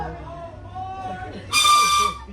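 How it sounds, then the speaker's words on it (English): A loud steam train whistle on the Ghost Town Calico Railroad blasts once, bright and piercing, after a stretch of someone talking over the crowd. "Once again, there will be 2 loud train whistles."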